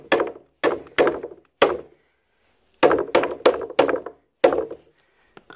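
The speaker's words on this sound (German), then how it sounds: "Und für die kleinen Nägel reicht natürlich auch der kleine Hammer." A small hammer taps small nails into wood while building a guinea pig enclosure, giving sharp, close knocks: a few single blows, a pause, then a quicker run of strikes and one faint last tap.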